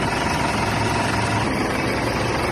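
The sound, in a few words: 2010 Mitsubishi Montero Sport engine idling after gasket replacement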